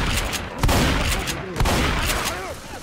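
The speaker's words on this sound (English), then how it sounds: "Hey, watch out! You're shooting me again." Gunfire in the Left 4 Dead 2 video game, a dense fusillade of rapid repeated shots with sharp cracks and ringing casings, loud and close throughout.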